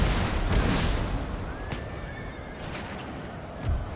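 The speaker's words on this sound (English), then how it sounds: "We might instead fire a round shot on them." Round shot cannon fire booms in a Total War Thirty Years War battle, with distant blasts amid a broad rumbling battlefield din and faint horse whinnies.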